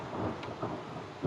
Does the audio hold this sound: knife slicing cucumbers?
no